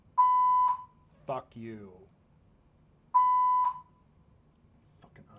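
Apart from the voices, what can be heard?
fire alarm being tested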